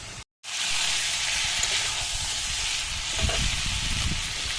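Cooking chicken hisses and sizzles loudly and steadily after water hits the hot pan, following a brief silent gap, with a few clatters near the end.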